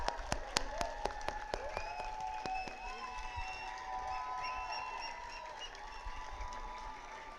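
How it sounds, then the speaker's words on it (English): A graduation audience at the CEPT University Faculty of Architecture convocation claps for departing postgraduates. A few sharp, loud claps open, then a softer wash of clapping and whoops continues, with faint whistle-like calls. "A huge round of applause to a very exciting bunch of specialists going out into the world."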